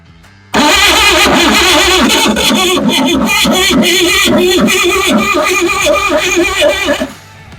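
A straight-six car engine cranks and catches, then runs loud and steady with a rough, throbbing idle and some uneven revving, close by, before cutting off.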